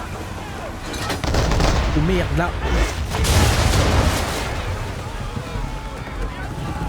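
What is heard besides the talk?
ship cannons firing in Assassin's Creed 3 video game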